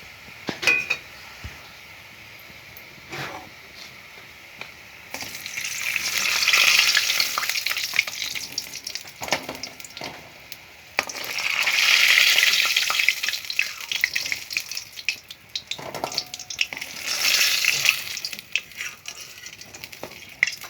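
Phuluri fritters fry in hot oil with bursts of bright sizzling that swell and fade as batter goes in, along with occasional clinks and stirring, close up and with no talk.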